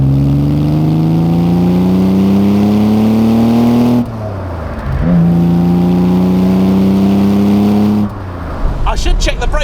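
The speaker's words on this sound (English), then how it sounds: "shall we rev out a DB6" An Aston Martin DB6 engine revs up twice in long rising pulls, loud and close, each climb dropping off sharply, with a rougher burst of engine noise at the end.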